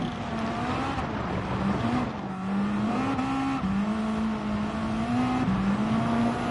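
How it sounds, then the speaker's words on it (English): Engine of a car in the Gran Turismo 7 racing game fitted with an HKS sequential blow-off valve, droning steadily with rising and falling revs and shift-like steps throughout, loud and continuous with no talk. "that blow-off valve is sick. If I'm not mistaken, that's a HKS sequential. One of the toughest sounding blow-off valves you can get."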